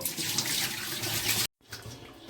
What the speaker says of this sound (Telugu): ఇక్కడ చాలా మట్టి చూసారా నీళ్ళు ఎంత గలీజ్ ఉన్నాయి ఇప్పుడు వంపేసుకుందాము